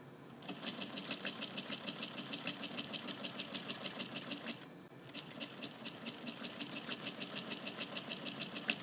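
A sewing machine with stitch length set at 3 runs steadily over a fabric label, a close, continuous rapid needle chatter that pauses briefly once before carrying on.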